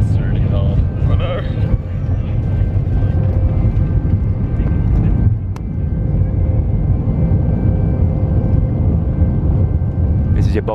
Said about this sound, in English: This is your bog standard plane taking off footage.